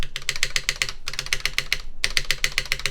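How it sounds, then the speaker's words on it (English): A GMK spacebar keycap is pressed repeatedly on a mechanical keyboard to test its stabilizer, giving quick bursts of crisp clacks with brief pauses between groups. The clacks are close and clear. "So I'm gonna just test this stab as what's indicated to me"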